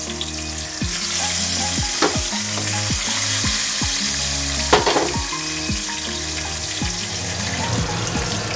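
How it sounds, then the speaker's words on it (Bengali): Pomfret fish pieces fry in hot mustard oil in a kadai, giving a loud, continuous close-up sizzle with bubbling crackle and a few sharp spatters, and no talking. "এবার আমি মাছগুলো কড়াইতে দিয়ে দেব।"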